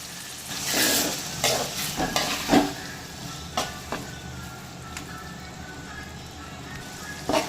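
Masala paste with tomatoes and turmeric fries in gingelly oil for a Kerala-style chicken gravy, a steady sizzle under repeated scraping stirs of a spoon against the pan, close and moderately loud.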